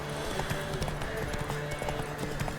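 Horse hooves clip-clopping in The Witcher 3 video game, a steady quick rhythm of hoofbeats at moderate loudness mixed with game sounds and a blur of background noise.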